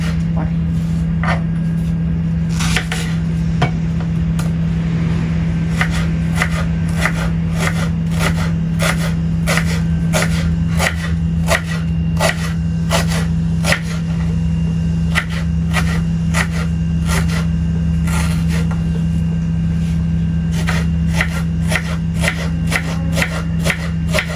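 Knife chopping ingredients for kacchi biryani, including cutting for fried onions: a long series of sharp, regular strokes on a board, close and distinct over a steady low hum, with quiet talk at times.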